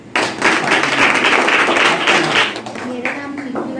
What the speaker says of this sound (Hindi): बहुत तालियां।